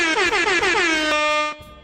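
A loud, blaring air horn blasts in rapid repeated bursts, then holds one long sustained tone before cutting off abruptly.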